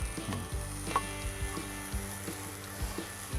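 Prawns frying in a pan with bitter gourd, a steady close sizzle with repeated low knocks and scrapes as the mixture is stirred.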